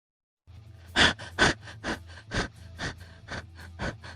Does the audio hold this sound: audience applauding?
no